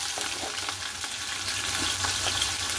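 Potato pieces fry in hot oil with a close, steady sizzle and scattered crackles, and no voices come through.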